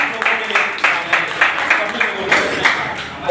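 Audience claps in quick, rhythmic bursts at a State Bank of India branch farmers' festival camp, steady and fairly close.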